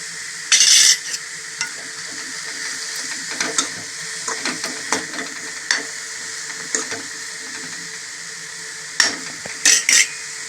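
Vegetables are stirred and mixed in a cooking pan over a continuous sizzle, with repeated close scrapes and sharp clinks of a spoon against the metal pan, and no voices.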